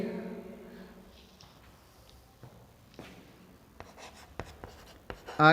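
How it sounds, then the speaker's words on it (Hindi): Writing on a board during a biotechnology class produces intermittent scratchy strokes, faint at first and growing sharper and more frequent toward the end, close in an otherwise quiet room. "अब इसको लिख लेते हैं अपन, पहले एक बार इंग्लिश में लिखेंगे।"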